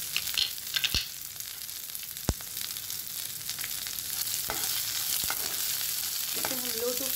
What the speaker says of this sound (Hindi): इसे हम लो टू फ्लेम पे ही फ्राई करेंगे। ये अच्छे से कुक हो जाना चाहिए।